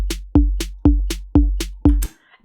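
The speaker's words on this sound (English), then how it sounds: "when I add some percussion to my downbeats, it will be sound like this." A steady beat with an extra percussion hit stacked on each strong downbeat, five sharp, evenly spaced strikes with a low thump and bright crack, each ringing briefly before the next, played alone.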